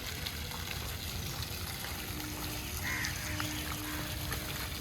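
Garden fountain at Humayun's Tomb in New Delhi, water overflowing and splashing in a soft, steady background wash, with a faint bird call partway through.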